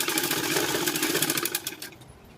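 A sewing machine stitches a high-neck blouse sleeve seam at a quarter-inch gap, running in a steady loud whirring rattle that slows and fades near the end.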